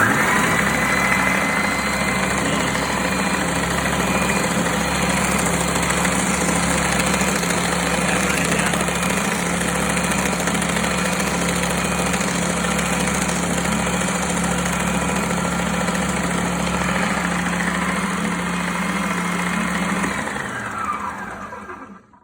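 A Bauer 191511E-B oscillating belt and spindle sander runs freely with a steady, even motor hum and drone for about twenty seconds before winding down at the end.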